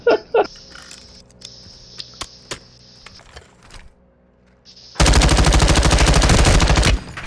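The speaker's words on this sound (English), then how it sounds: "Taking effective fire!" Gunfire in a firefight: a few sharp isolated shots early on, then a loud, sustained automatic burst of rapid rounds lasting about two seconds, close and dominant.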